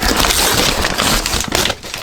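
A heavy diecast parcel is torn open up close, producing loud, dense crinkling and ripping of packaging with no talk.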